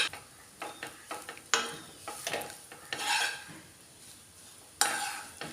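Cooked vermicelli is stirred into masala in a pan, irregular scrapes and metallic clinks of a spoon against the pan over a soft sizzle, fairly close and without talk.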